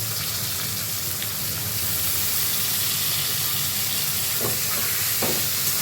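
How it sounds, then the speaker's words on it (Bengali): Potatoes and onion fry in a pan with a continuous bright sizzle, close and steady, broken by a few soft stirring scrapes near the end. "ভালো করে ভেজে নেব"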